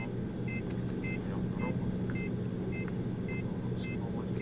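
An aircraft ground power unit runs steadily at an airport, a constant low mechanical drone with a faint hum, while short repeating beeps sound at regular intervals over it.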